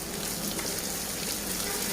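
Onion and garlic fry in a pan, giving a steady, dense sizzle that holds even and unbroken for the whole moment.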